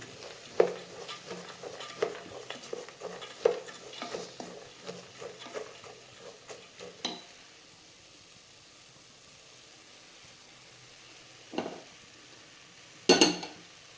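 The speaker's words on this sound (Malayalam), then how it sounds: "വെജിറ്റബിൾസ് വരട്ടുന്നത് നമ്മൾ വെളിച്ചെണ്ണയിലാണ് കേട്ടോ." Vegetables sauté in coconut oil in a high-quality three-layer stainless steel pan, with a soft sizzle under repeated spatula scrapes and clinks for several seconds, then quiet with a couple of later knocks.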